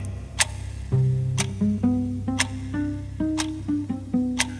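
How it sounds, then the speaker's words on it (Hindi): Steady wall clock ticking in a quiet house, regular sharp ticks about once a second over a low hum, no voices. "सिर्फ दीवार पे लगी घड़ी की आवाज सुनाई दे रही थी।"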